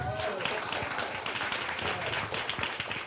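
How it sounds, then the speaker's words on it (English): A crowd at a real estate community event applauds a speaker being introduced, a broad, continuous wash of clapping that holds steady for about three seconds, with faint voices mixed underneath. "Y'all better clap."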